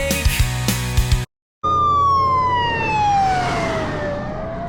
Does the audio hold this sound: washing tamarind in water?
no